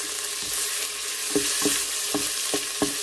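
A bay leaf fries in hot oil in a pan, a steady close sizzle with a few sharp stirring taps spaced through it, no voices.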